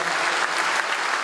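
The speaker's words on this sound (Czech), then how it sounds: "teď ještě za jednou zazní určitě velký aplaus" An audience applauds for an award-winning mayor at a ceremony, dense steady clapping from a large crowd filling the whole moment.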